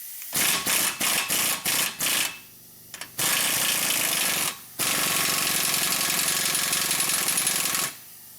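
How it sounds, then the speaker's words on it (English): An impact wrench tightens the axle nut on a Chevy Impala during front wheel bearing work, loud and close: a series of short rattling bursts, then two long sustained hammering runs. "So now I'm gonna install the axle nut. So we're gonna tighten this."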